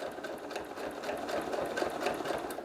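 A sewing machine runs steadily, stitching a quilt along a straight ruler guide, a continuous close mechanical whir with a fast even stitching pulse and no talk.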